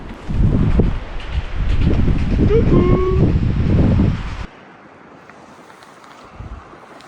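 Loud gusts of strong wind on a rocky Norwegian plateau buffet the microphone in heavy, roaring bursts, then abruptly drop to a quieter background hush.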